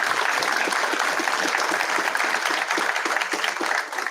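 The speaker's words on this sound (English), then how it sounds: "So please give them a round of applause." Audience applause fills a township council meeting room, a dense, steady wash of many hands clapping that holds loud and even throughout before easing slightly at the end.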